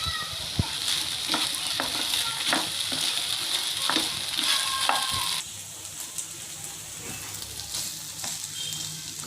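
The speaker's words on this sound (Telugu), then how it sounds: "దీనిలో మన ఫ్రై చేసుకొని పెట్టుకున్న గోబీ మొత్తం వేసేసుకోవాలి." Fried gobi (cauliflower) for Gobi Manchuria sizzles loudly in a hot pan while being stirred, with sharp clicks of a spatula scraping the pan and the frying dropping slightly quieter partway through.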